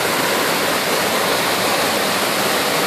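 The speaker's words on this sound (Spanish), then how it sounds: "Ya estamos sobre la cascada." A waterfall at La Cueva del Agua, dropping about three meters, gives a loud, dense and unbroken rush of falling water heard up close, with no voices over it.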